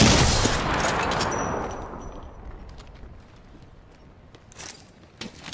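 Gunfire in the video game Apex Legends, a loud burst at the start that fades into a rumbling tail, with a few sharper cracks near the end.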